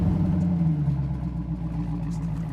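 A Dodge Challenger Hellcat pulling away in sixth gear makes a low, steady lugging drone. The engine note is close and loud, with a slight pitch dip partway through and no voices over it.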